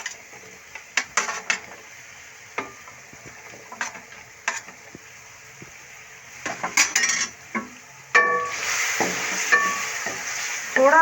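Diced potatoes and carrots go into a ready masala for vegetable biryani and are stirred in a pot. Scraping spoon strokes and metal clinks come in bursts over a soft sizzle, growing busier and louder toward the end.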